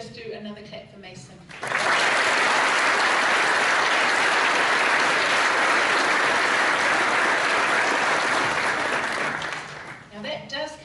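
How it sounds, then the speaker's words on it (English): Audience at a school senior prize giving bursts into sustained, dense applause for several seconds, loud and even, with speech briefly before and after. "And if we can just do another clap for Mason."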